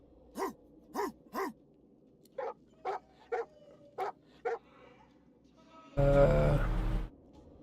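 A dog in a video game, a hound, lets out a run of short, sharp barks and yips in two clusters, then a burst of louder, noisier sound near the end.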